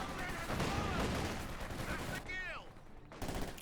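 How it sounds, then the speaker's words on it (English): Anti-tank guns fire in a Company of Heroes 2 battle, sharp gunfire cracks and bursts over a dense wash of battle noise, with a commentator talking over them. "those AT guns are just tracking infantry units."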